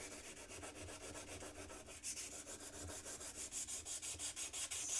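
Heavy-grit sandpaper rubbed by hand over a rusty metal tool, a steady rhythmic scrubbing of repeated close strokes that grow slightly louder and more regular toward the end.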